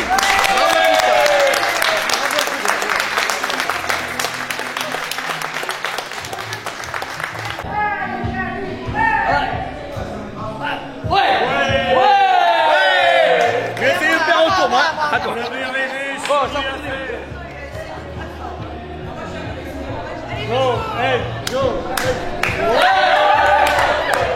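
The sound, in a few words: crowd applauding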